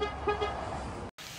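A parked car's horn gives a brief, faint chirp as the car locks, a couple of quick tones near the start, followed by a hushed street background that cuts off briefly.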